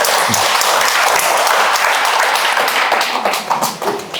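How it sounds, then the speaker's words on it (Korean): An audience claps steadily for about four seconds at a Korean lecture on mindfulness, a dense, continuous wash of applause that tapers slightly toward the end, with no talk over it. "여러분 박수로서 환영해 주세요"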